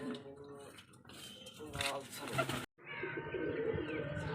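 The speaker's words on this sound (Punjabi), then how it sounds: "ਇੱਕ ਇਹ ਵਾਲਾ ਕਬੂਤਰ ਮਿੱਤਰੋ ਅੱਜ ਆਪਾਂ ਲੈ ਕੇ ਆਏ ਆ" Close pigeon cooing and soft bird calls, with some clattering and rustling nearby and a brief cut before the sounds continue.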